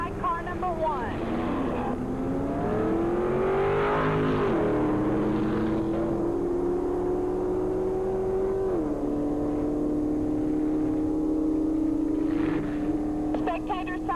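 Drag racing cars at Valley International Dragway in 1985 roar down the strip, one long, loud engine note rising and shifting pitch as they accelerate, with announcer talk running over it.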